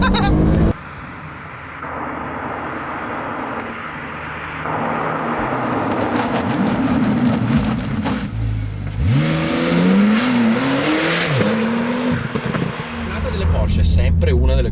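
Porsche 911 Turbo S launching hard under launch control, engine roaring and climbing through rising revs with gear changes, loud from inside the cabin while people talk over it.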